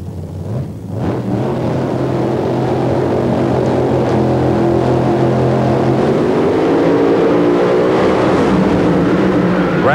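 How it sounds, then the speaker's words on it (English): Drag racing cars scream down the strip in the final round at the 1993 NHRA Fram Sports Nationals in Atlanta, a loud sustained engine roar holding steady then rising in pitch for about ten seconds. "Is it Bartone going into the final round to race Bob Newberry?"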